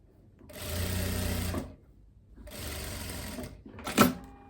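Sewing machine stitching a seam on a viscose dress, two steady runs of close, even stitching separated by a pause, then a short sharp clack at the end, with no talk.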